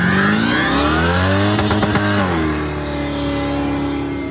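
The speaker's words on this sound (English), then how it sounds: "As the hearse carrying the body of JJ Hutchinson left the funeral, cars following did burnouts." Cars following a hearse out of a funeral do burnouts, loud revving engines whining up and down in steady harmonic sweeps, close and sustained throughout with no speech.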